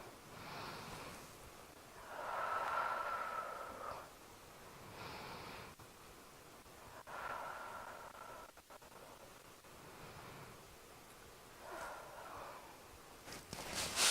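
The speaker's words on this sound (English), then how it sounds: "And you take 3 deep breaths" Three slow, deep breaths taken during a seated calming exercise with crossed ankles and folded hands, each a soft, airy inhale-exhale rising and fading against quiet background hiss.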